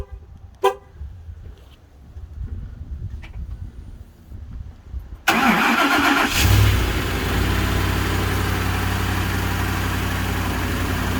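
A 2011 Lincoln Navigator with a 5.4L three-valve V8 and 155,000 miles cold-starts at -20C after sitting outdoors for 16 hours. A few faint clicks come first, then the starter cranks and the engine catches, settling into a loud, steady idle close by.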